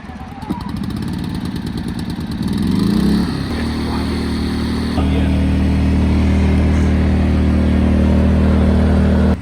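A 2003 Chevy Tahoe with a 5.3 V8 cranks and catches, then settles into a loud, steady close-up idle with a deep continuous rumble that firms up partway through.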